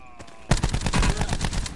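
Rapid gunfire in a Blackout battle royale video game, a dense burst of shots rattling out for over a second after a brief quieter lead-in, loud and close.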